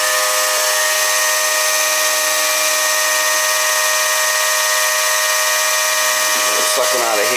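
A circulator pump purges water through hydronic baseboard heating, giving a loud, steady mechanical whine with strong constant tones that holds unchanged for several seconds before a brief wavering near the end.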